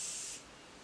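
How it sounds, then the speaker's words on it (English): A short, close burst of face mist sprayed onto the face during a makeup routine after setting powder, a bright hiss lasting under half a second then fading into quiet room tone. "And I'm going to spray my face a little bit"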